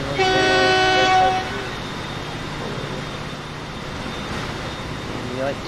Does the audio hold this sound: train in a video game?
yes